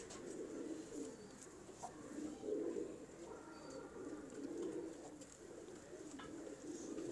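Pigeons kept by a hobby breeder coo softly in a low, rolling murmur, several birds layered together and fairly close, with faint background noise and no speech.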